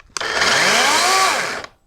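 A battery-powered DeWalt chainsaw revs up, holds a steady high whine for over a second, then cuts off. It is close and loud, with no voices.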